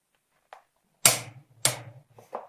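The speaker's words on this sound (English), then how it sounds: "That click lets me know that the desired torque has been reached." A torque wrench set to 100 foot-pounds tightens a wheel nut and gives two sharp, close clicks about half a second apart, with a few faint ticks before and after in an otherwise quiet space.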